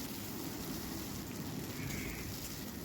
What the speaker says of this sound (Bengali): বরবটিগুলো কিন্তু আমি ভালো করে ভেজে নেব। আর এমনভাবে ভাজতে হবে যেন এর সবুজ রঙটা যেন না চলে যায়।